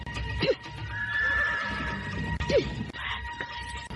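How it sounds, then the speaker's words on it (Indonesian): A horse neighs loudly and close twice in a radio-drama scene, each whinny rising sharply, with hoofbeats and scuffling between them as it bolts away, under a steady background hum. "Sekarang giliran kuda Raden Wangsa Dirja."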